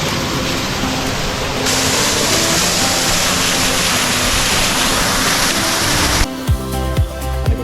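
A small waterfall in Gyeongsang-buk-do, South Korea, roars in a loud, unbroken wash that grows slightly fuller partway through, then cuts off abruptly near the end as other sounds take over.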